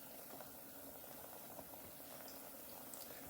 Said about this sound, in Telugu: చూసారా, ఫ్రై అవుతూ ఉంది, ఇట్లా మంచిగా మనకి పొంగుతూ ఉంది